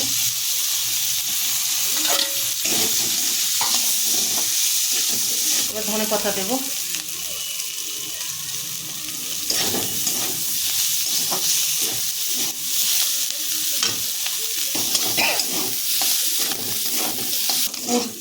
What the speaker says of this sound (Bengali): এবার এই ভাজাগুলো দেবো আলু আর মাংস ভাজা দেব